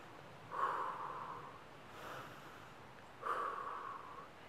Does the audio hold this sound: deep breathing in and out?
yes